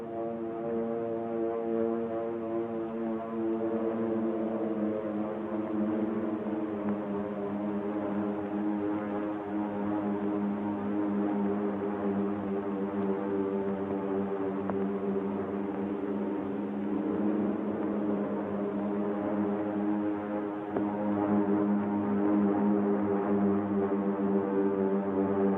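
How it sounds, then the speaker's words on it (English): Drone of approaching military aircraft over Pearl Harbor, a steady low droning hum with layered engine tones, sustained and continuous, swelling slightly toward the end. "the drone of planes was faintly heard"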